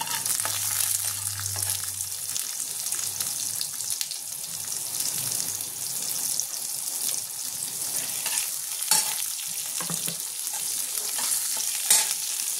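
Whole cumin and tomato frying in oil in a pan on a home stove, a steady soft sizzle with occasional brief pops and stirring clicks.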